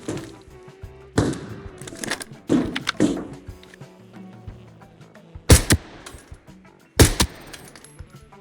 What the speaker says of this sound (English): I would finally hear a bunch of shots outside of Armory